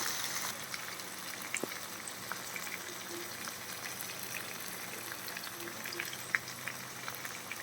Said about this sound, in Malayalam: ഇനി ഇത് ഫ്രൈ ഫ്രൈ ആവട്ടെ